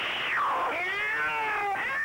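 Cats yowl in a cartoon sound effect: one long, wavering, sliding caterwaul, close and fairly loud, with no speech over it.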